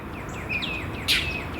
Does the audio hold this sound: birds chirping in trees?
yes